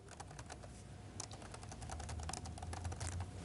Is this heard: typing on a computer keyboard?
yes